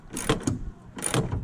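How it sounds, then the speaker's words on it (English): Ratchet wrench tightening the rear shock bolts on a 1999 Ford Taurus: two short bursts of rapid mechanical clicking about a second apart, close and fairly loud, with no talking. "so now we just take our wrench in here, and just go ahead"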